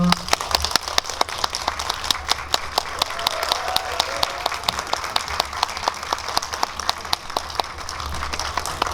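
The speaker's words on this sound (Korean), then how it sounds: "박수로 환영해 주세요." Audience at a movie Q&A in a cinema hall claps steadily to welcome guests, a dense, sustained round of applause with sharp individual claps standing out close by.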